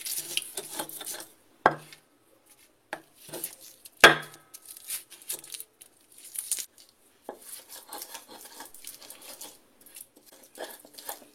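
Peanuts, kencur, shallots, garlic, fried bird's eye chilies and salt crushed by hand for Sundanese karedok dressing, giving irregular scraping and grinding strokes with a few sharp knocks, close by and fairly quiet, with no talking.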